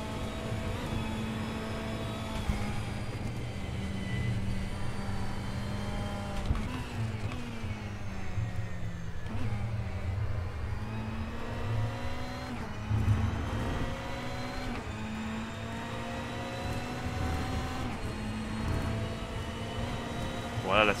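A Ferrari race car engine in the rFactor 2 racing simulator drones steadily, its pitch climbing and dropping through gear changes, with a voice talking over it.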